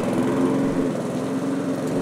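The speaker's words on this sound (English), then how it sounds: "That is a loud lawnmower." A loud lawn mower engine runs close by outside a house. It drones steadily with a high buzzing hum and no pauses, and no talk is heard.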